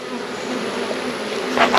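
Honey bees buzz densely around an opened hive during a check for queen cells, a loud, even drone that swells toward the end with a burst of rustling close by.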